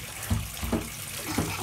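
Warm water runs and splashes in short, close bursts, with a few soft sloshing pulses in quick succession.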